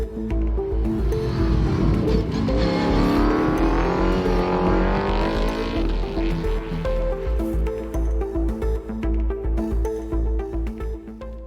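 An S5000 race car engine in eSport racing at Monza roars loudly, rising and falling in pitch as it accelerates and shifts, heard alone with no talking.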